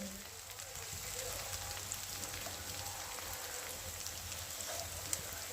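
Onion sautéing in a pan for pav bhaji, a steady crackling sizzle that runs evenly throughout with small pops, close and moderately loud.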